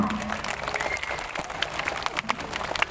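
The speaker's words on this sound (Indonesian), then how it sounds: "tepuk tangan dulu yang meriah" At a school report card ceremony, parents and pupils break into lively applause for a top-ranked student, a dense wash of clapping from a crowd with some voices underneath.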